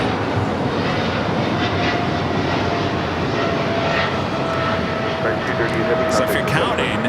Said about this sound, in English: 777-300ER taking off to JFK, Flight 238. Now rotating off at 25 right here on the south side.